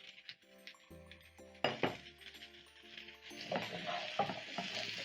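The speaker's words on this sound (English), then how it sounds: "toss everything together." Onions, carrots and potatoes sizzling in a pan for samosa filling, tossed with clinking utensil and pan knocks, the frying hiss building steadily and close, with no voices.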